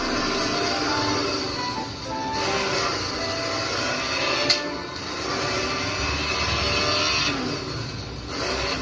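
A BMW engine in a racing video game revs and drones continuously, with a rising and falling motor whine and a brief sharp tick midway, steady and moderately loud throughout.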